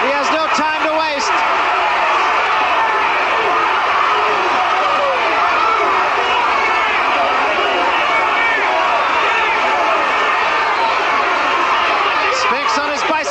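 Heavyweight boxing crowd on its feet in an arena, a dense continuous roar of cheering and chatter at steady loudness throughout, with a few sharp slaps or bangs near the start and end.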